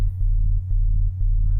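An FM synth bass patch in Ableton Live with its second oscillator tuned an octave down plays a deep, throbbing tone, pulsing in short repeated notes at an even rhythm.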